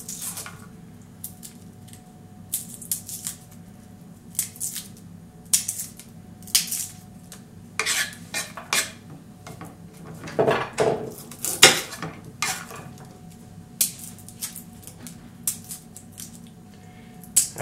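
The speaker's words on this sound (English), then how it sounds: "actually we won't cut this garlic with knife, we will grate this" Garlic is grated for chimichurri in scattered, uneven bursts of scraping and rasping, with some knocks of utensils, all close and fairly loud against a quiet kitchen background.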